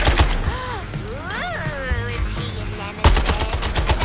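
Suicide Squad: Kill the Justice League gunfire rattles in rapid bursts of shots, a heavier volley cutting in near the end, layered over in-game voices and a sweeping whoosh.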